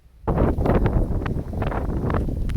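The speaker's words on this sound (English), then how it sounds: "Excuse me, it's super windy." Loud, gusty wind buffets the microphone in rough, rumbling bursts after a short quiet start.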